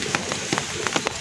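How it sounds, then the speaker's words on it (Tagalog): Rain begins falling at an outdoor fish market stall, a steady hiss with scattered drop patters, and no talk. "Ay umuulan na."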